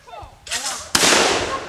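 A single sharp gunshot cracks out during family target shooting outdoors, a loud close report with a lingering wash of echo, preceded by voices talking.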